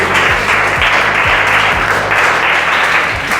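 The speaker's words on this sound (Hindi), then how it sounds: "बिलाल लाइ ताड़ियूं" A crowd claps steadily for a few seconds, dense and continuous with sharp individual claps mixed in, fairly loud and close.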